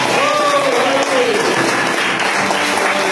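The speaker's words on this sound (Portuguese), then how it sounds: "Aplauda o Senhor pela vida" A church congregation applauds in a loud, continuous wash of clapping. Voices carry over it and a sung or called tone rises through the first second.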